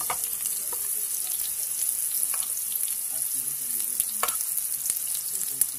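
Vegetables caramelizing in a hot pan give a steady, dense sizzle and crackle that runs unbroken throughout, with small pops scattered across it.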